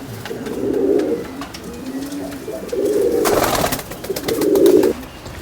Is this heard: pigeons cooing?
yes